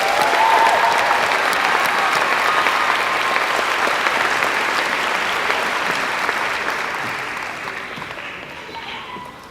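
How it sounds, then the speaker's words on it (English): A graduation audience at a high school ceremony claps in a sustained, dense wave of applause that stays loud for most of the stretch, then gradually thins and fades toward the end. "Let's give them all another round of applause."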